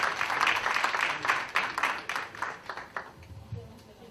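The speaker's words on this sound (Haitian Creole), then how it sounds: "Applaudissez s'il vous plaît." Audience applause at a literary tribute gathering in Boston, a burst of clapping from a crowd that swells briefly and then tapers off over a few seconds.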